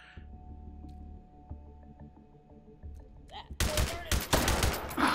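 A Bren gun firing in the Hot Dogs, Horseshoes & Hand Grenades VR game at an abandoned port at night: quiet clicks and mechanical handling, then a loud burst of rapid automatic shots close by.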